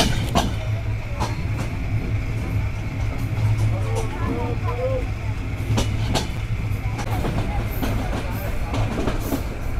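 A train rounds a curved line with a continuous low rumble and rolling rattle, light wheel squeal rising briefly mid-way, and a few sharp clacks of the rails, heard from on board, loud and steady throughout.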